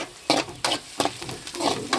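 Curry leaves sizzling in hot oil while frying a Tamil squid curry, sharp crackling bursts with stirring, close and loud, alone without talk.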